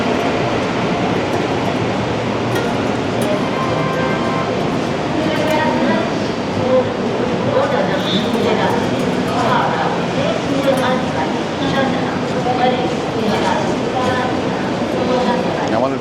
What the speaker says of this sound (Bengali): এ পাশে আবার কোনো একটা ট্রেন আসছে